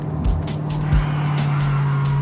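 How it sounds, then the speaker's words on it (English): Rear tires of a car squeal and burn with the brakes locked during a skid, a loud sustained screech over engine noise, with brief thumps near the start. "In their fight for friction, the brakes win and the rear tires burn"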